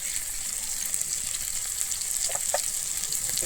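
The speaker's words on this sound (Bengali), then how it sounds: "এবার ভালোভাবে এবারে কষিয়ে নেব আমার মশলাটা" Spice masala with Kashmiri chili powder sautéing in a pan for Bengali-style aloo dum, a steady close sizzle with faint crackles and a few soft scraping stirs.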